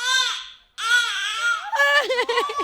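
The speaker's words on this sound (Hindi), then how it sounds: "बेबी रो रहा है" An infant cries in loud, wailing bursts, with a short pause before a long sustained cry that breaks into choppy sobbing whimpers, close and alone.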